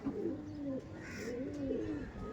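Punjabi pigeons, an aggressive pair, giving soft low coos in two rolling phrases, close and quiet with no other sounds.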